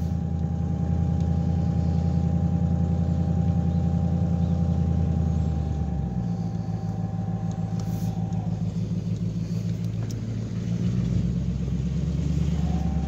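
An Audi A8 quattro engine running at idle after nearly an hour, a steady, loud, close low rumble that shifts pitch slightly midway and holds on evenly, with no talk over it.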